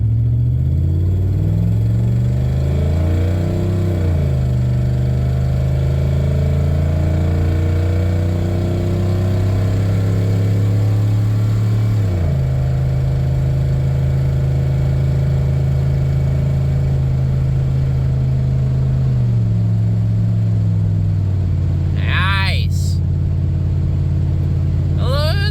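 A 2002 Dodge Durango SXT with 294,000 miles runs steadily at close range, its deep engine drone rising and settling through a couple of gentle revs without being floored.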